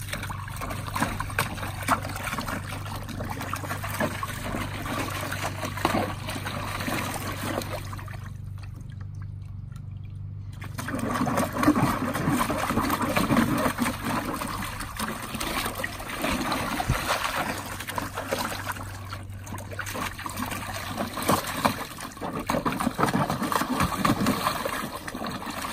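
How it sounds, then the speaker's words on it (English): A Saint Bernard blows bubbles in water, a fairly close, continuous gurgling and bubbling that breaks off into a brief quiet gap before resuming and running steadily to the end. "She was blowing bubbles"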